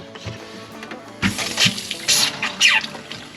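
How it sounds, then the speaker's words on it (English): RV antifreeze splashes from a faucet into a sink and drains into the P-trap, a faint trickle that swells into several short gurgling surges of water at close range, with no talking. "it's actually putting the antifreeze into the P-trap"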